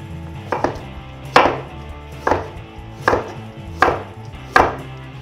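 A knife chops through a carrot on a cutting board in six evenly spaced, sharp thuds, close and crisp with no voices.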